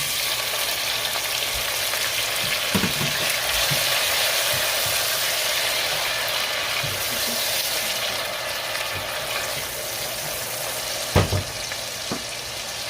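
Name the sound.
tomatoes added to frying pan for ridge gourd curry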